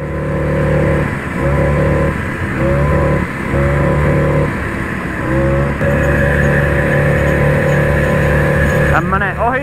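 Several old Tunturi Terhi mopeds ride together in a convoy, their small engines droning steadily and buzzing loud and close, with the pitch shifting as they pass and change speed; a voice joins in near the end.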